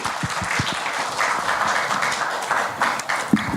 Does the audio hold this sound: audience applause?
yes